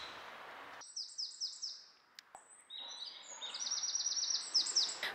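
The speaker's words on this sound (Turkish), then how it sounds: "Kuşların sesini duyuyor musunuz bilmiyorum ama o kadar güzel ötüyorlar ki." Birds sing clearly in quiet surroundings in Brussels, Belgium, with repeated high chirping phrases and trills, one bird then several, near and fairly bright.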